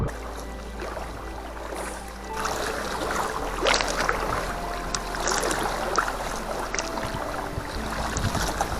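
Kayaks paddled across an open inlet near Philip Edward Island, with rhythmic paddle splashes and water lapping against the hulls, close and steady under gusts of wind buffeting the microphone.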